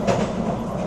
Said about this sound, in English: This is a really bumpy train. It's not a smooth ride.